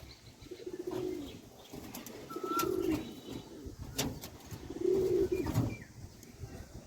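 Pigeons cooing softly at close range, a few low throaty coos spread over several seconds along with occasional brief wing flutters and rustling in a quiet room.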